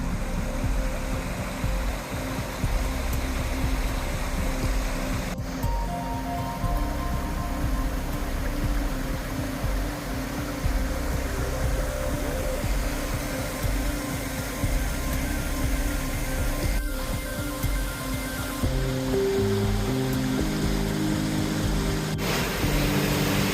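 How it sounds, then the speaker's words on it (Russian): Waterfall in a national park in the autumn Appalachians, a steady full-band rush of falling water that stays loud and unbroken throughout, with no voices over it. "Сейчас там будет водопад"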